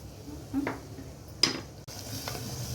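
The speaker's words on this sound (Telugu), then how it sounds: "పచ్చి వాసన పోయే వరకు కలుపుకోవాలి." Tomato paste masala for fish curry being stirred in a pan, with a faint low sizzle throughout and a few short spoon scrapes against the metal, close by and with no talking.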